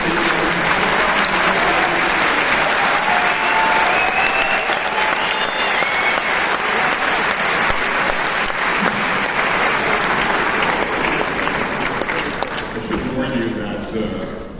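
An audience at a live political talk event in Israel breaks into sustained, loud applause, steady clapping filling the whole stretch before tapering slightly at the end.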